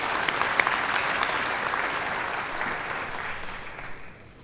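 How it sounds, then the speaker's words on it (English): An audience at the NANOG 68 network operators conference opening applauds the college immersion program attendees with a full, steady round of clapping that fades out toward the end. "Give you a round of applause."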